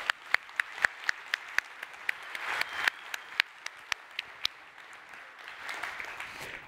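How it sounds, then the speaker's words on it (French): Sparse applause from a small audience at a French technical talk on Kerberos delegation, a few scattered sharp claps that merge into a light patter, quiet and somewhat distant. "Merci au courageux qui a lancé l'applaudissement"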